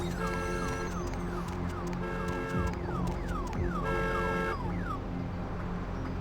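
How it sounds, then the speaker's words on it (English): A car alarm blares in the video game Vampire: The Masquerade - Bloodlines, cycling loudly through repeating whooping and rapid warbling patterns without pause across the whole stretch. "That sounded like a car alarm."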